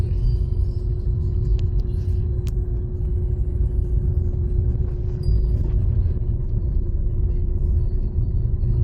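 A car driven on the road with the driver steering one-handed, a steady low engine rumble and road hum from inside the cabin, constant and fairly loud, with a few faint clicks and no talking.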